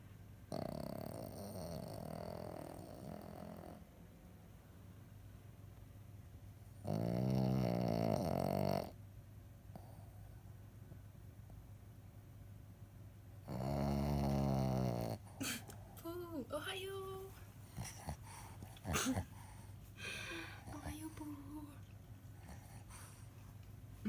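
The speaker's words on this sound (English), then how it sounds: "And then this is their dog." A dog breathes heavily and grunts up close in two longer snorting, rumbling bursts, followed by scattered smaller snuffles and movement noises.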